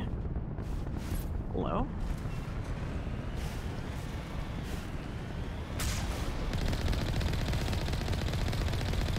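Rapid continuous gunfire in the Mass Effect video game roars loud and dense throughout, with a brief spoken word early on.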